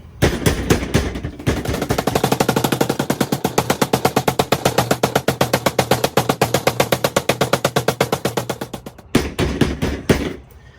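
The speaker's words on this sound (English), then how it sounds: "now we pounded this giant piece of chicken" A small rolling pin pounds a large raw chicken breast flat in a kitchen. The blows come as a fast, steady, loud run of thuds for several seconds, stop briefly, then start again.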